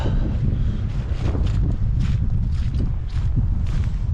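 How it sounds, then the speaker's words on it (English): Wind buffets the microphone along the Wales coast path while walking down a muddy hill, a constant close, low rumble with irregular gusty bursts throughout. "The wind's picked up,"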